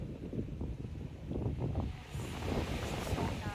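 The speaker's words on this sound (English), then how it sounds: "why not just listen to the waves" Ocean waves at a beach in Dubai, a low rolling wash and surf that swells and recedes steadily, with wind buffeting the microphone throughout and no speech.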